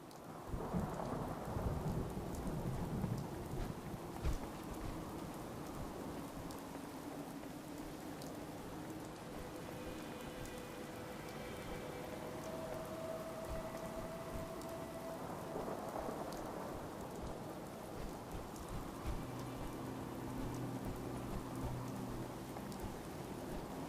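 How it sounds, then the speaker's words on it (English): Steady rainfall with rolling thunder in the video game Fallout 4 Far Harbor, a constant hiss of rain on surfaces while low rumbles swell and fade, with no voices. "Damn rain. Hope it doesn't rust out my suit again."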